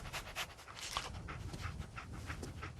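In Fallout 4, the companion dog pants softly and quickly in a continuous breathy rhythm, faint and close, over a low game background with no speech.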